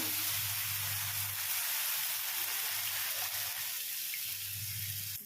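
Oats onion rava dosa batter poured from the side onto a hot griddle, giving a steady broad hiss and sizzle with a low hum underneath, close and continuous with no speech.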